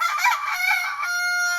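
A big inbred broodstag rooster crows loudly and close by, one sustained harsh crow that holds steady to the end.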